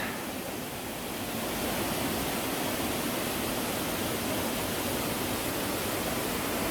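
Steady broadband rushing of falling water, a constant roar with no breaks or voices, heard from a moderate distance.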